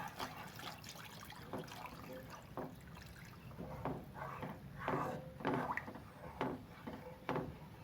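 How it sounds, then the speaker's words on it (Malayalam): Coconut milk poured into thickened jackfruit payasam in a pot, a soft liquid trickle and splash with intermittent louder pours and light clinks, close and steady with no talking. "അപ്പം ഇതിലേക്ക് ഞാൻ തേങ്ങാപ്പാൽ ഒഴിക്കുകയാണ്."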